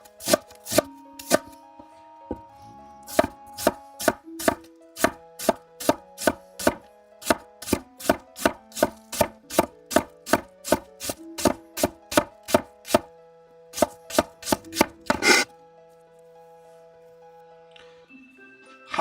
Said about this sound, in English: let me know how that ASMR is doing for you on this knife.